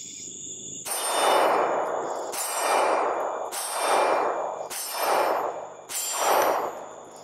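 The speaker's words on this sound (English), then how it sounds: "Let's do a little shooting." Five pistol shots ring out at evenly spaced intervals roughly a second apart during test shooting with weapon lights, each a sharp crack followed by a ringing decay, close and loud.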